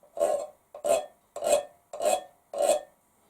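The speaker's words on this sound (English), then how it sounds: "if you look at the average tin can, it often has these corrugated edges to it. So you could play those" Five rasping scrapes across the corrugated edges of a tin can come in an even rhythm about half a second apart, each a short grating burst, close and clear with silence between.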